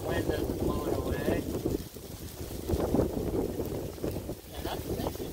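Steady wind gusting around an outdoor griddle cook, a broad, rumbling rush with swells and dips throughout, close to the microphone, with a voice talking faintly beneath.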